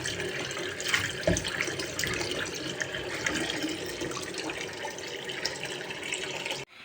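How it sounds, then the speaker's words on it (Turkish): Plums are washed in a bowl under a running kitchen tap, a continuous loud gush of water with splashing and occasional clunks of fruit against the bowl, heard without speech. "Birkaç su yıkayacağım tabii böyle bol suda"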